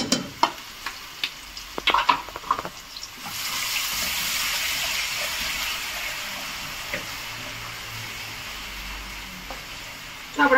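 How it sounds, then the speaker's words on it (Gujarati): Ginger, chili and garlic paste hits hot oil in a pan with a steady broad sizzle after a few scraping stir clicks, the frying hiss holding loud and even to the end with no talk. "હવે આપણે એમાં આદુ, મરચું અને લસણની પેસ્ટ નાખી દઈએ."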